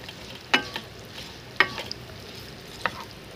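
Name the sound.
onions frying and being stirred on medium-high flame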